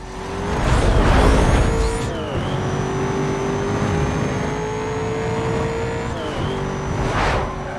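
A loud car engine in the video game Need for Speed: Most Wanted (2005) revs and whines continuously, pitch climbing and dropping through gear changes, with no talking.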